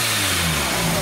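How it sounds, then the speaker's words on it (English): A car engine revs loudly and steadily at close range, with a constant mid-pitched growl and a deep low hum throughout. "He's parked next to me and he's revving with the people."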